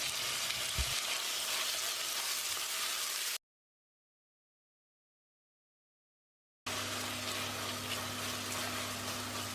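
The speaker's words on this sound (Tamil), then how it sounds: "தக்காளியோட 1 டேபிள் ஸ்பூன் உப்பையும் சேர்த்து மசிகிற அளவுக்கு வதக்கிடலாம்." Tomatoes with salt sizzle and fry steadily in a hot pan for mutton curry, a dense hiss with occasional stirring, broken by a few seconds of complete silence midway.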